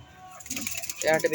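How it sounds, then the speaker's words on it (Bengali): Local domestic pigeons coo softly at close range, with low murmuring calls and faint wing movement under a background of voices. "এখন পুরো দেশি পায়রা এসছে"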